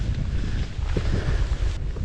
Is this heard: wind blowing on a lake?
yes